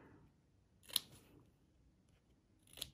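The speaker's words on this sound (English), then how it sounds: "you do have to snip off the corners for the hooves to get rid of the bulk" Two sharp scissor snips cutting the fabric corners at the hooves of a rag doll horse's limbs, one just before the midpoint and one near the end, separated by quiet.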